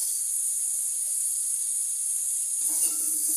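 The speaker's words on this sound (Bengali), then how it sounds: "মশলাটা একটু কষিয়ে নিই।" Masala for raw banana kofta hisses softly and evenly in a hot pan as it is fried down, with a slightly fuller burst of sizzling near the end.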